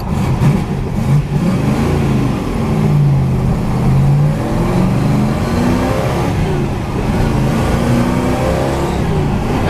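A 1968 Chevrolet Camaro custom with a built 327 V8 and 3.73 gears drives steadily, its engine droning loud and close with rising and falling revs as it pulls smoothly, no voices over it.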